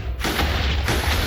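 A Minecraft wither spawning blast, a loud, low, booming rumble that swells and rolls for about a second, with no voices.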